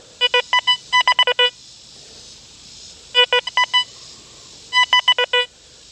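An XP Deus 2 metal detector with a fast multi-frequency coil sweeps over a nickel and answers with three clusters of sharp, rapid beeps. The beeps are loud and close, with short silences between them.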